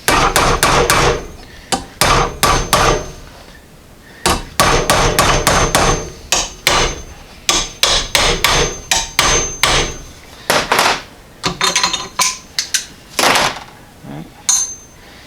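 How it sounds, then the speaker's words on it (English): Hammer tapping on sheet metal while shaping a roof panel for a Model A hot rod shop truck: loud, close, rapid bursts of sharp metallic blows separated by short pauses, with no talking. "I'll clamp it back on and give her some more tapping."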